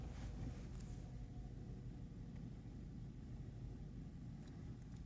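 Steady low rumble of a 2010 BMW 318i E92 coupé engine idling just after a push-button start, a continuous even hum with no speech.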